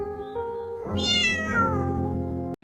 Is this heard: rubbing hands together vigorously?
no